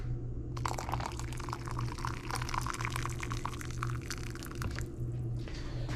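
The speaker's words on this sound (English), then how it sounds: "Add extra water in here." Water is poured steadily into a challah bread dough mix in a home kitchen, a continuous splashing trickle that runs for several seconds with no talking.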